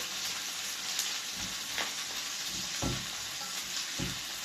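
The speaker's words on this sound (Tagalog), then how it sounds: "Lagyan na po natin ang ating sibuyas." Onions frying in oil in a pan for Bicol Express, a continuous close sizzle with soft stirring thumps every second or so, and no talk.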